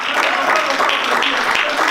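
Fathers in a church congregation applaud on the preacher's request, a moderate wash of clapping hands running steadily under the pastor's voice.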